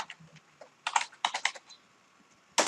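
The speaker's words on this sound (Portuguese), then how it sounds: "Dei um Enter. Dei mais um Enter." Computer keyboard keys clatter in a quick, close cluster of taps, ending with a single sharp press of the Enter key, while text is typed in a word processor.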